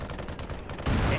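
Unit gunfire in the Halo Wars strategy game, a short burst of rapid shots that swells louder near the end.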